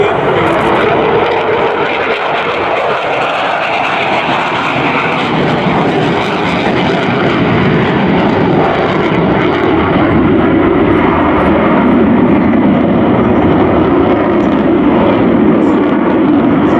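Two F-15 Eagle jet fighters roar past at the 2022 Dayton Air Show, a loud, sustained broadband jet rumble that holds steady and shifts slightly as the pair passes, with no talk over it.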